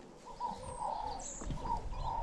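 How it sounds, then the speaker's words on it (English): Birds calling in Loxton, a small Karoo village in South Africa, steady chirping and cooing over a constant outdoor hum, moderately near and soft. "just listen to the birds again"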